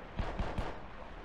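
Video game gunfire during an underwater section: three quick, loud shots about a fifth of a second apart, then fading reverberant noise, with no talking.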